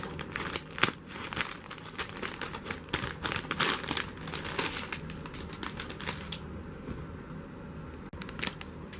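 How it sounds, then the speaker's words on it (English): A plastic Lego parts bag being cut open and handled, producing steady crinkling and rustling with sharp snips and crackles throughout, fairly close and continuous before quieting near the end. "I'm going to start with cutting open the red bag, like this."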